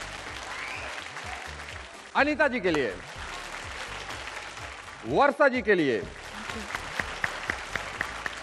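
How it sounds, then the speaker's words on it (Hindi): A studio audience at a televised contest claps steadily throughout, with a host speaking over it in two short bursts while the applause continues underneath. "आपकी भरपूर तालियों में हम उनका वेलकम करेंगे"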